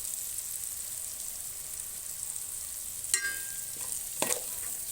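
Curry frying in a pan gives a quiet, constant sizzle, and two brief spoon scrapes sound as it is stirred.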